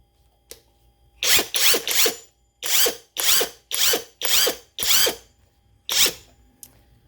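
A cordless impact wrench fires in short bursts, nine or so sharp rattling hammering runs of about half a second each, close and loud with brief pauses between, no talking.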